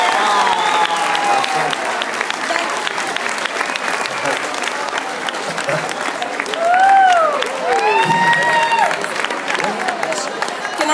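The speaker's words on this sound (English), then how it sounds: "So let's give Carol a big round of applause" A big round of applause for Carol from a lively crowd, steady clapping mixed with cheers and whoops, voices calling out over the sustained noise.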